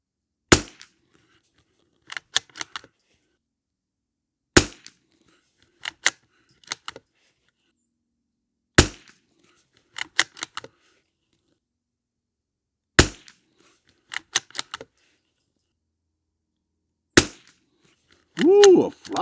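Savage MKII TR rifle firing CCI standard velocity rounds at a range, sharp isolated shots spaced several seconds apart with small clicks between them, and a voice near the end.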